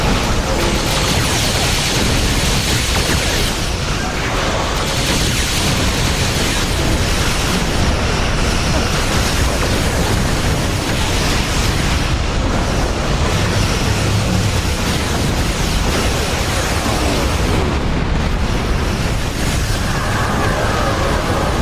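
Starship weapons fire and explosions in Star Trek Online space combat, a dense, loud, continuous roar of blasts and booms layered over each other with no letup.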